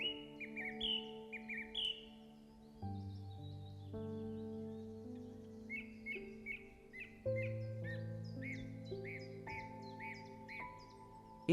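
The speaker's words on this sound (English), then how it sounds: "the lilac-breasted ibis also has a special song, creating joyful melodies in the wild nature" Lilac-breasted bird singing in Kenyan grassland, a clear series of repeated sharp chirps and whistled phrases in short bursts over a sustained tonal musical backdrop, fairly faint.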